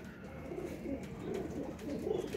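Pigeons coo softly and steadily inside a large cage, a low murmuring burble that repeats without pause and sits fairly close.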